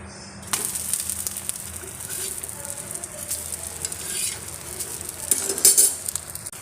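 Road-side style egg dosa sizzles in oil on a griddle, with loud, uneven hissing and several metallic spatula scrapes and knocks as it is turned, the loudest clatter near the end.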